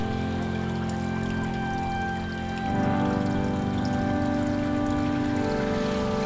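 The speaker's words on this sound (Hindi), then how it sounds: "बहते पानी का संगीत" A mountain stream in Jibhi, Himachal, flows as a steady rushing and gurgling. It swells slightly partway through and carries on loud and continuous, with no voices.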